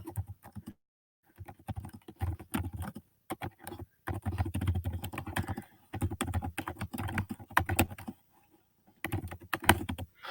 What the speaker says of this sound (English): In this box, you can type in your instructions.